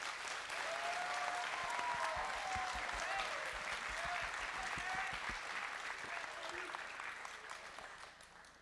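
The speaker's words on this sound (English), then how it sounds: "please give them a round of applause." A large audience at a robotics qualifier event gives the volunteers a long round of applause, steady and full, with faint voices underneath, gradually easing off toward the end.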